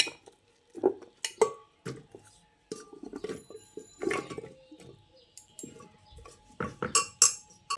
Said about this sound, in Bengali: এই প্রেশার কুকারের মধ্যে প্রথমে আমি আলুটা দিয়ে দিচ্ছি তারপর কেটে রাখা এঁচড়গুলোকে দিয়ে দিচ্ছি